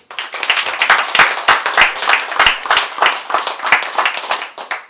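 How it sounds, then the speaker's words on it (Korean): Loud, close clapping from a gathering at a 2012 Philippines mission review meeting, encouraging a missionary: brisk, uneven handclaps in a steady burst for about five seconds. "격려 차원에서 크게 박수"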